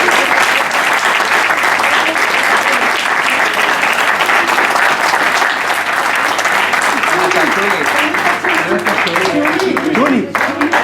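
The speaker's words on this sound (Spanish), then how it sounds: "Un saludo un aplauso para Yerma." An audience at a tribute event in Spain applauds loudly and continuously for Yerma, a close, dense wall of clapping with voices calling out beneath it.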